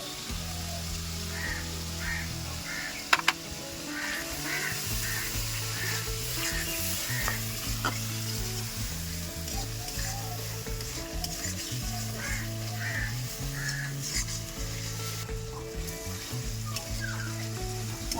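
Ground coriander, cumin and Kashmiri chilli powder frying in oil, a continuous soft sizzle with stirring scrapes, under a steady low hum, no talk.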